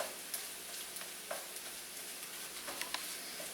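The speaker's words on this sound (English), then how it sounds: "Because we want the egg to be nice and fried." Egg frying in a pan for pork fried rice, a soft continuous sizzle with light spatula taps and scrapes, quiet and close with no voices.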